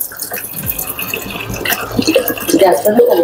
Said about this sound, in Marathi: आपण हे किटलमध्ये आता पाणी टाकणार आहोत